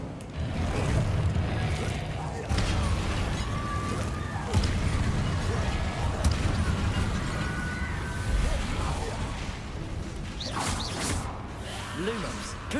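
An Incendio fire spell cast in the video game Hogwarts Legacy: whooshing bursts and crackling blasts amid a busy combat mix, with repeated spell impacts and scattered crashes through a loud, dense fight.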